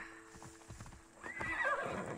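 Hooves clop quickly as a horse gallops through a vineyard in the ancient Greek game Assassin's Creed Odyssey, then a loud, close whinny rises near the end.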